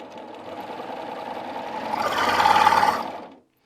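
A sewing machine runs a flatlock stitch through fabric, a continuous mechanical whir that builds in intensity before stopping abruptly.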